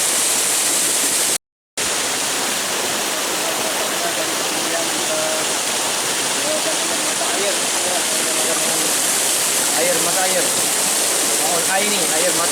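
A waterfall deep in the interior of Aceh gives a steady, dense roar of rushing water that fills the whole stretch after a brief cut near the start, with faint voices now and then beneath it.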